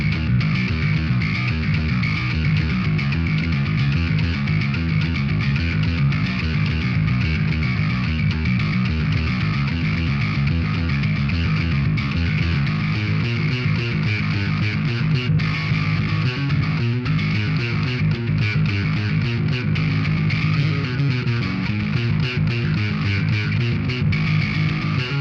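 A bass guitar through a Boss DS-1 distortion pedal plays a dense, sustained riff, heavily distorted, loud and continuous throughout with no voices.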